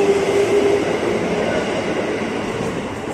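An eight-car commuter train rumbles steadily at Depok Baru station platform, West Java, loud and close, with a brief tonal whine early on.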